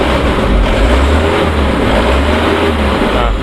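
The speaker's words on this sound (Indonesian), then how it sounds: "Ini dia suara mesinnya." A 2013 Mitsubishi Canter FE 73 box truck engine idles steadily up close, a continuous deep rumble with a dense, even texture and no pauses.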